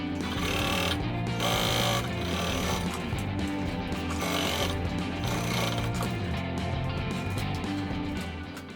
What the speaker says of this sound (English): After everything is installed, I will sew on the flap cover.